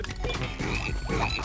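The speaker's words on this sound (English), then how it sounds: "What is up with all these frogs?" Frogs in the game Battleblock Theater give off a dense, close chorus of throaty croaks that overlap continuously.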